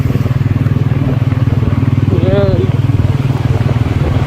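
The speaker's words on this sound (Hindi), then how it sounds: "फाइनली निकल गए बाइक पे राइड करते हुए, बुलेट पे" Engine of a black Bullet motorcycle on a ride toward Atal Tunnel near Manali, a steady close thumping drone running throughout, with a voice talking over it.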